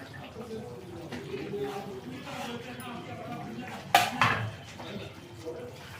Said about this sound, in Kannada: ಬೆಂಡೆಕಾಯಿ ಹಾಕ್ಬಿಡ್ತೀನಿ